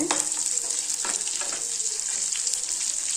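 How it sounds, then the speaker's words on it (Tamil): Tamarind and spices sauté in hot oil with curry leaves, a bright, dense sizzle with a few soft stirring scrapes, close and steady, no talking. "புளி நல்லா கொஞ்சம் எண்ணெயிலே கொஞ்சம் நேரம் வதக்கிடலாங்க"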